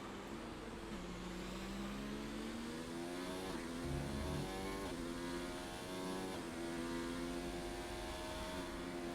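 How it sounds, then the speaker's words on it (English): A Haas Formula 1 car in a racing video game screams past the finish line at the Bahrain Grand Prix, its steady high-pitched engine note continuous and loud throughout, rising and shifting pitch slightly as it passes, with no talk. "Beefs is going to come across the line in the Haas"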